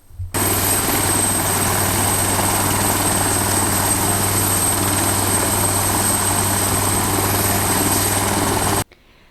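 A Bell AH-1Z Viper attack helicopter in flight, its loud rotor and turbine roar holding steady and close for about eight seconds before cutting off abruptly.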